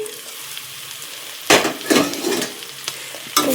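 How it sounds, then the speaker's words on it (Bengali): Food frying in a kadai (wok) at an outdoor picnic, with a steady background sizzle broken by several loud, scraping stirring strokes in close succession; no one speaks. "খানিক পরে দেখো কি সুন্দর ভাজাটা হয়ে গেছে"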